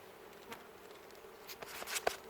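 Bees buzzing around small beehives during autumn colony preparation, a faint continuous hum with a few individual insects passing close to the microphone.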